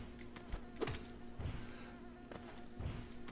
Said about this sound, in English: The little bees are so cute.